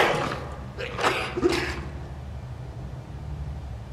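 A few abrupt, breathy sneezes burst out in quick succession near the start, then quiet background noise follows.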